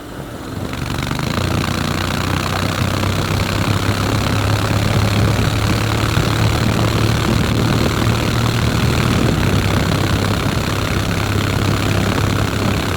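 A 2024 Honda X-ADV 750 scooter engine drones at about 80 mph on UK roads with a steady, buzzing hum and wind rush, loud and constant after a quick rise at the start.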